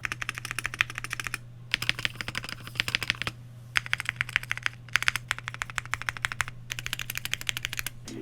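Fast, steady typing on an IQUINIX Super 1+1 TKL mechanical keyboard: deep, thocky key clacks in dense bursts, broken by brief pauses, recorded close up over a low constant hum.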